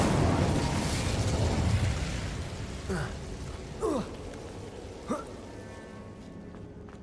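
Incendio fire spell cast in the Hogwarts Legacy video game, heard as a dense whooshing burst that fades, followed by a few short sharp magical pops and crackles spaced about a second apart.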